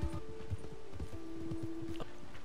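Horse hooves clip-clop in a steady walking rhythm through town in Red Dead Redemption 2, close and moderately quiet, with a faint tonal hum in the background.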